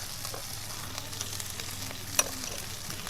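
Spices with salt and turmeric sizzle and get stirred in hot oil for a pointed gourd pasinda: a soft, steady frying hiss with occasional light scrapes and one sharp clink from the spoon.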